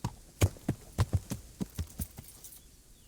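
Horse hooves in the medieval video game Kingdom Come: Deliverance, a string of soft, fairly close thuds with uneven spacing that thins out toward the end, heard on their own.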